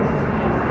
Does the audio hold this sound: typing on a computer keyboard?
no